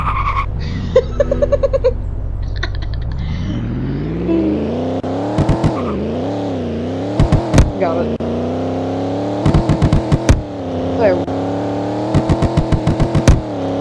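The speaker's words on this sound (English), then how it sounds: "It's a little backfire though" A 2015 Chevy SS in a Roblox racing game, engine revving up in a rising, sustained drone with repeated bursts of crackling backfire pops, loud and close.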